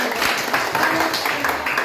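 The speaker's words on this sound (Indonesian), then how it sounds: "Oke, tepuk tangan." Classroom applause after a discussion group presents its results, a brief burst of dense clapping from many students with voices talking over it.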